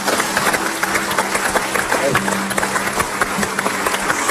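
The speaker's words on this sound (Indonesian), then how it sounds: "kasih tepuk tangan lagi buat mereka semua" Studio audience on an Indonesian TV talk show clapping, a dense continuous patter of applause with sharper individual claps, kept up steadily across the whole stretch.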